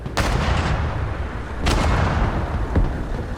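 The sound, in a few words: artillery fire from Broken Arrow video game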